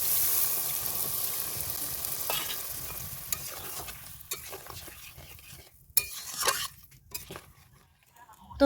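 Coconut milk goes into a pan of sizzling spiced oil in a home kitchen. The frying hiss fades from loud to quieter, with spoon stirring and clinks of the pan and utensils toward the end.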